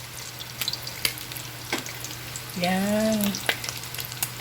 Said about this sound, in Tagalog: Huwag niyong susunugin yung spam, yung bahagya lang yung pagprito